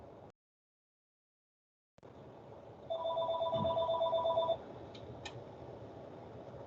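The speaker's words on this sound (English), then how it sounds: "My phone is ringing, but I'm not answering it. It's the lab phone" In a lab during a lecture, a desk telephone gives one electronic ring burst lasting about a second and a half, moderately loud after a brief dropout of silence, with low room noise and no voices.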